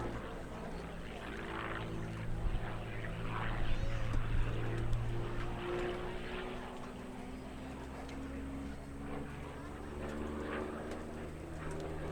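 A P-40 Warhawk makes a high-speed pass at an air show, its piston engine droning steadily across the whole stretch, swelling a little in the middle as it passes and then easing off, with crowd ambience underneath.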